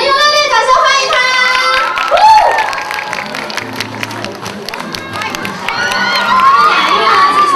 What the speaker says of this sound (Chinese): 我们用热烈掌声欢迎他！